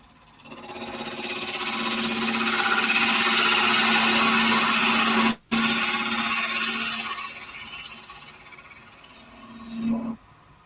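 A chisel cuts wood with a steady, close scraping whir, most likely on a lathe, rising and holding for several seconds, then breaking off briefly before resuming and fading to a short final surge.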